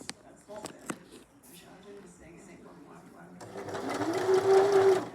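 A Janome mechanical drop-in bobbin sewing machine stitches a manual buttonhole, starting quietly after a few clicks and handling sounds, then running steadily and louder near the end.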